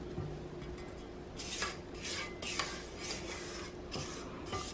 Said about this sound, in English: I'm gonna stop it, scrape the sides again.